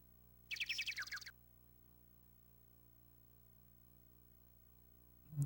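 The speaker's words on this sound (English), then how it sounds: "Listen to the sound of those birds" Birds chirp in the Sega Saturn golf game World Cup Golf: Professional Edition, a short burst of bright, rapid tweets over a low steady hum, then quiet, with a soft thump at the very end.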